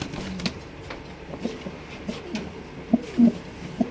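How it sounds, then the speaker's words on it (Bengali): Lahori, king and mundian pigeons kept in a loft, cooing softly with a few low, rounded coos near the end over faint background rustle and distant noise, no talk. "মাশাআল্লাহ দর্শক দেখেন খুব সুন্দর কবুতর আল্লাহর রহমতে।"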